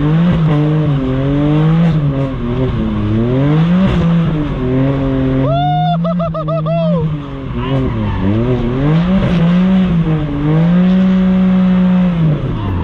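A car launches at a drag race with traction control off: a loud engine revving up through repeated gear-like rises, with a brief squealing tire chirp midway, close and continuous.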